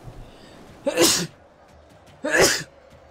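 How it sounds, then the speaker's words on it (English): Two sharp, loud sneezes about a second and a half apart, each a sudden burst with nothing else around them, during a live-commentated Age of Petty Kings game session. "Okay, I'm gonna sneeze."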